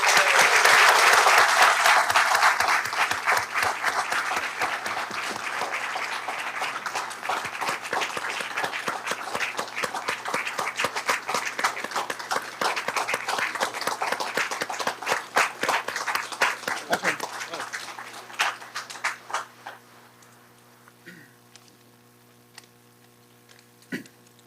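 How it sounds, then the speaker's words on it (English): A school board audience applauds students, starting as a loud, dense burst of clapping, then thinning to scattered individual claps that fade out over about twenty seconds. "great round of applause for their accomplishment?"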